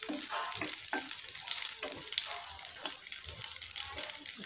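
Garlic cloves, washed with skins on, frying in a pan, a continuous close hiss and crackle with soft stirring clinks throughout.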